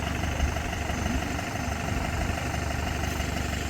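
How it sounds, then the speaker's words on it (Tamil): A 4x4 jeep engine idles steadily after an off-road trip in Meghamalai, a low continuous rumble with slight vibration and no voices. "லலித் வண்டி ஆஃப் பண்றா."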